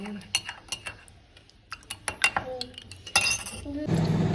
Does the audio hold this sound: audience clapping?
no